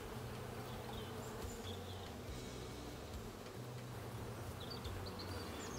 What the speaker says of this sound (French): Regardez le frelon asiatique qui vient de passer sur le cadre.